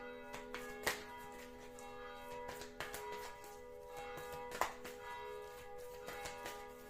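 Church bells ringing in the morning, faint and distant, with scattered soft strikes and a lingering hum of overlapping tones.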